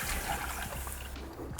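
Water runs steadily into a pan holding polenta, a close continuous pouring and splashing wash.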